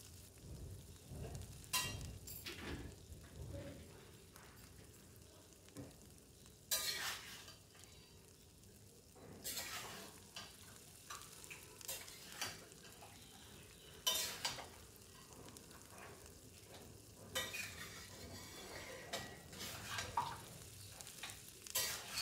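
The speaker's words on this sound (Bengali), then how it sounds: "একটু নাড়াচাড়া করে যাতে সব মশলাগুলো একদম ইভেনলি এটা মিশে যায় সব কিছুর সাথে" Katla fish head cooks with spices in a pan while a spoon stirs it, giving repeated scraping strokes over a quiet continuous sizzle, with occasional louder scrapes.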